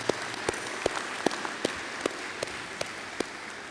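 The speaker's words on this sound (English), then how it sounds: "let's give applause for your parents." A crowd at a National Signing Day event applauds the parents with a steady wash of clapping, a few sharp individual claps standing out at regular intervals, fairly distant and moderate in volume.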